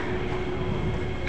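MRT train at Sembawang station in Singapore, a steady loud rumbling roar with a faint whine on top, continuous and close, no talk.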